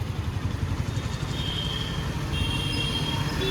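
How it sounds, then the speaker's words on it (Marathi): A train passing on a small railway bridge in Beed, Maharashtra, a continuous low rumble and rolling rattle with faint high squeals, steady and moderately loud throughout with no talking. "त्याच्या दुसऱ्या साईडनं पण ट्रेन चाललेली."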